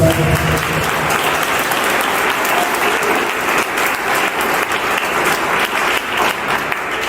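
A church congregation breaks into loud, sustained applause during a Christian teaching, with dense clapping and crowd noise throughout.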